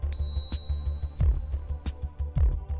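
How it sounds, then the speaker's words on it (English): Several metallic strikes of a Mizuno MP52 grain flow forged golf iron, each a ringing ding with a lingering tone, spaced irregularly over a low steady hum, fairly close and moderately loud. "The MP52, grain flow forged,"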